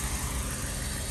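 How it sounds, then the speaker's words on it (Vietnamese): The 1.4-litre engine of a 2008 Hyundai Click automatic idles smoothly and steadily, a close, even mechanical hum with a low rumble and no voices. "Máy nổ rất là êm."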